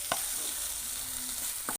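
Drumstick fry with grated coconut being stirred in a pan: a short scrape near the start and another near the end, over a soft steady sizzle, with no voices.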